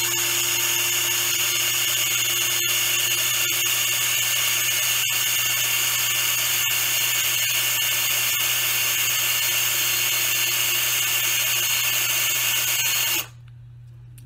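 A power drill spins a pencil stuck in its chuck to sharpen it, a steady high whine close to the microphone with a few brief scraping ticks, running continuously until it stops near the end.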